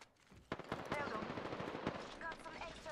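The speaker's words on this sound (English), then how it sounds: "Who's getting shot at?" Automatic gunfire in the video game Apex Legends, rapid bursts of shots crackling over a dense mix of game sounds at moderate volume, with a voice briefly heard over it.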